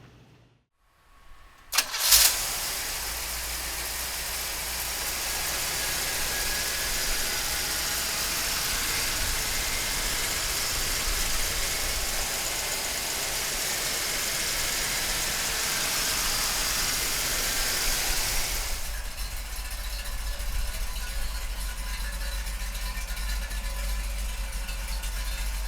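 A 1968 Pontiac Firebird convertible cranks briefly and catches, then settles into a loud, steady idle with a low rumble that carries on for over twenty seconds, with a change in tone near the end and no talking.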